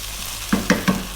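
Small-cut potatoes fry in a hot pan for a British Indian curry and are stirred, giving three quick, close scraping clatters over a steady sizzle.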